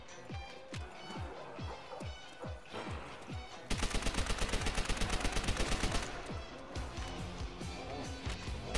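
Rapid automatic fire from an MP40 submachine gun in the Call of Duty: World at War zombies mode, a loud, steady burst of around two seconds that stands out between sparser single shots and game noise.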